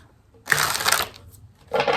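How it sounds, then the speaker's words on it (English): A deck of tarot cards shuffled by hand makes a close riffling burst lasting about half a second, then a pause, then a second flurry of papery card flutters. "Okay, that's usually how I shuffle."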